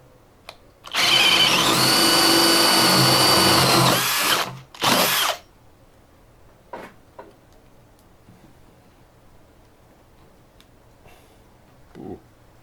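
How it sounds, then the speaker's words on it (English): A power drill bores a 1-inch hole in an old piece of wood, giving a loud, steady whine of about three seconds, then a short second burst, followed by quiet handling clicks and knocks. "I'm just gonna drill a 1-inch hole next to it"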